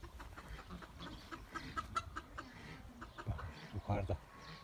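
Chicks cluck and peep nearby in short irregular bursts while a person talks quietly in Turkish over them.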